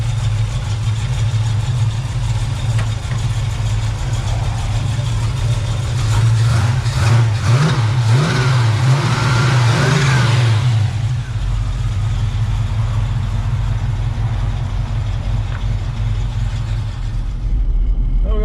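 A car engine runs loud and close, holding a steady low idle-like drone that swells into a rev as the car pulls away down the road, then settles back to a constant hum.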